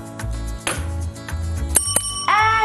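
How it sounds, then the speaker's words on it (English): A bell rung to mark the start of a class, several sharp metallic rings in quick succession, close and clear, with faint room noise between strikes. "why don't we make it official and ring the bell?"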